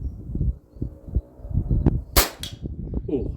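A sharp shot from an FX DRS Tactical .22 sub-12 airgun on an outdoor 100 m range, a loud crack with a brief ringing tail, heard over steady wind rumble and low handling noise.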